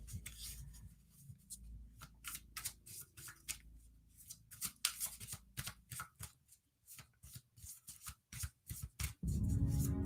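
Tarot cards being shuffled by hand, a quick series of crisp riffling and flicking bursts at close range, quiet and alone with no talking, ending in a rustling slide of cards.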